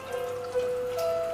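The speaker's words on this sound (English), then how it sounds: "Foam it up with some water." Water splashes and trickles softly as a face cleanser is worked into a foam with wet hands in a bathroom routine, a faint continuous wet sound with no talking.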